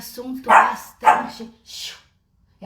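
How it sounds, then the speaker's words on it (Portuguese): A small female dog barks twice in quick succession, close and fairly loud, followed by a softer yip, in an indoor setting. "minha cachorrinha tá dando bom dia também"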